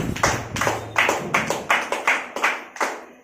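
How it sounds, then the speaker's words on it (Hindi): A small group at a DXN meeting claps in a loose, uneven run of distinct hand claps that sounds like only a few people, close and fairly loud, with no talking. "उनके लिए जोरदार ताली होनी चाहिए"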